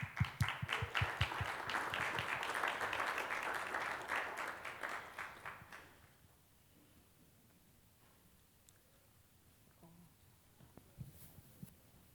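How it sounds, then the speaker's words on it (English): Audience applause at a Democracy 101 town hall, dense steady clapping for about six seconds that fades out, leaving quiet room tone with a few faint scattered noises. "If I can get a round of applause."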